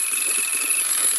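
Motorbike engine running at a steady idle, a short, continuous mid-pitched hum with no pauses, set against a faint steady background tone.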